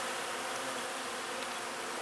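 Bees swarm around a bush in a park, a constant close buzzing hum holding steady and unbroken with no voices.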